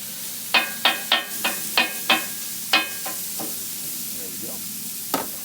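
Burger and sausage sizzle steadily on a Weber griddle without oil, with a series of sharp, evenly spaced metal scrapes close by, then a pause and one final scrape.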